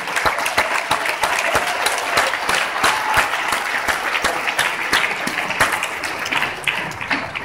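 Audience applause at a folk song and dance ensemble concert: a dense, loud, even wash of many hands clapping, sustained throughout with no talking over it.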